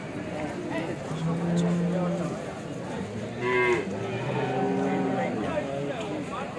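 Jersey cows moo at a busy weekly cattle market, several long low calls near and far, heard under steady talk of people haggling over prices.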